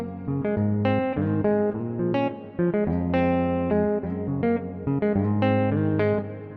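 Afrobeats guitar riff played through the Vala Vintage Reverb plugin on its default preset, a plucked melodic pattern with sustained, washed-out tails, continuous and prominent.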